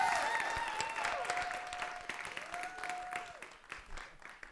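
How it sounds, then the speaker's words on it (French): An audience at an improv match gives a round of applause, with steady clapping, a few shrill whistles early on, and the sound gradually thinning out. "On peut leur donner une bonne main d'applaudissements."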